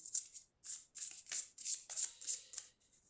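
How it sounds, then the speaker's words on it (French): An oracle card deck is shuffled by hand in a quick run of about eight crisp riffling bursts, close and fairly quiet, with no talking. "On va tirer une carte. Allez, on va mélanger."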